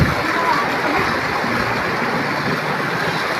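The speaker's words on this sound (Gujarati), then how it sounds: "કેટલો વરસાદ પડે છે ફૂલ" Heavy rain pours steadily onto a waterlogged road, a dense, constant hiss that stays loud throughout with no breaks.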